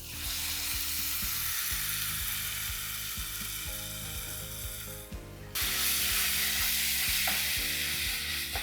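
Eggs stirred into an onion mixture frying in a pan, a steady loud sizzle with rhythmic scraping and knocking of a spoon, the hiss growing stronger partway through.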